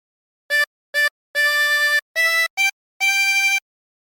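A harmonica plays a phrase of Mary Had a Little Lamb, blown and drawn around holes 8 and 9: six clear, close reedy notes, two short, then two held, a short one and a final long tone.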